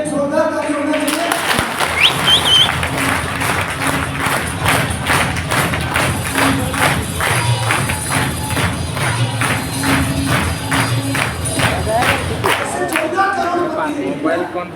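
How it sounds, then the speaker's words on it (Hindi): An audience at a marketing company meeting in Kukshi, Madhya Pradesh claps in a brisk, rhythmic, unison beat for about ten seconds, close and fairly loud, then stops, with talk around it. "तो अब्बास सर के लिए जोरदार ताली होना चाहिए।"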